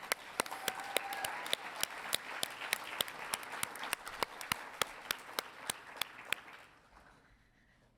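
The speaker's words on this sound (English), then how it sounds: "Let's give our graduates one more round of applause." An audience at a graduation celebration claps for the graduates, a sparse steady applause with distinct individual claps that thins out and stops near the end.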